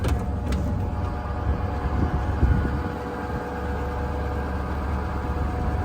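A low-mileage 1971 Dodge D500 grain truck engine idling slightly high with the PTO engaged: a steady, even, low rumble that stays constant throughout.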